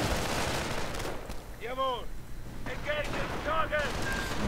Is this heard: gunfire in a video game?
yes